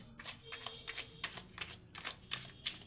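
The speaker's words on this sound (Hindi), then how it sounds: "मैंने 2 डेक का इस्तेमाल किया है" Two decks of tarot cards are shuffled by hand in a quick, rhythmic series of crisp riffles and slaps, close and fairly soft, with no talking.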